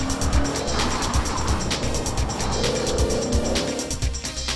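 Audi RS4 V8 revving hard toward 8,000 RPM with four-wheel-drive tires squealing, a loud, sustained, close engine roar and screech with no talk.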